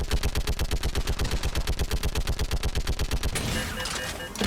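Steady automatic gunfire in Mass Effect 3 during a fight on Rannoch, a fast even rhythm of loud close shots for about three seconds, then giving way to softer mixed battle noise.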